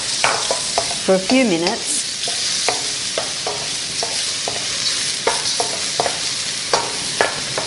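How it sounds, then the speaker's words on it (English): Sliced shiitake mushrooms sautéing in unrefined sesame oil in a wok, a steady sizzle broken by repeated scraping stir strokes, with brief talk under it early on. "saute the sliced shiitake mushrooms"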